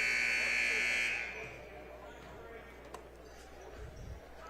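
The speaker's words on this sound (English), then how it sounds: "Buzzer sounds on warm-ups." A loud, steady electronic buzzer blares for about a second at a high school boys basketball game, then cuts off, leaving a quiet arena hum with a few faint thuds.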